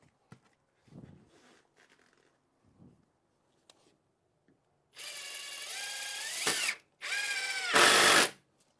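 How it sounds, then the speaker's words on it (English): A power drill drives a screw into an interior door: a loud whirring run that rises in pitch and then stops, followed by a second, stronger burst, after a few soft handling knocks. "Sometimes what you can do is add a screw on the other side."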